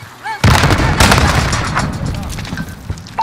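A grenade blast in Call of Duty: Modern Warfare, a sudden loud explosion with a sharp onset and a second burst soon after, then a decaying rumble with scattered gunfire and game radio chatter around it.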